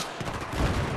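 Rapid automatic gunfire in Battlefield 3, a dense, loud, continuous volley of shots throughout the brief moment.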